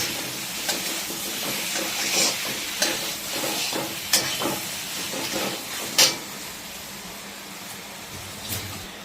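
Katla fish kaliya being stirred and mixed in a pan over a high flame: a soft sizzle runs under repeated scraping and sharp clicks of a spatula against the pan.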